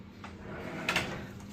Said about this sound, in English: Right, so we'll close this door.